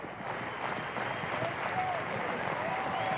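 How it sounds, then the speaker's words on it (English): Spectators at a minor-league baseball game between the Winnipeg Goldeyes and the St. Paul Saints clap together in unison, a steady dense wash of crowd clapping and noise holding at an even level throughout. "a little bit of unison clapping here"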